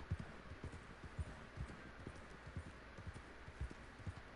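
A horse's hooves clip-clop in a steady, quick trotting rhythm in a video game, faint and even, with no talking over them.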